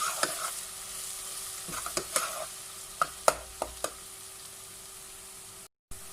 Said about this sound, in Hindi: अभी इसको हल्के से फ्राई कर लेना।